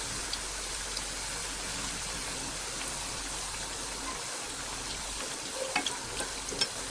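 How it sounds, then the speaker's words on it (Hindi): Besan and rice papdi frying in hot oil, giving a steady soft sizzle and bubbling hiss throughout, with a few faint crackles near the end and no talking. "अब हम मशीन से पापड़ी को निकालेंगे और तेल में डालते जाएंगे।"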